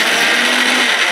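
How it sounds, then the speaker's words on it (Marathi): Mixer grinder running at full speed on carrot pieces with no water added, a loud, steady high-pitched motor whir with a rough grinding edge, close up and uninterrupted. "हे पाण्याचा वापर न करता गाजर मिक्सरला फिरवून घ्यायचं"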